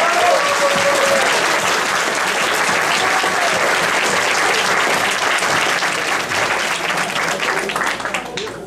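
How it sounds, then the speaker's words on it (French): Loud, close applause from an audience at a Foyers Farnham foundation charity golf tournament, thick continuous clapping that carries on and tapers off near the end. "Fait qu'on vous applaudit encore."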